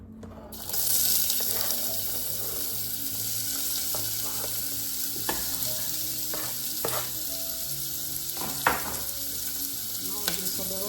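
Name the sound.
onion frying in oil in a pan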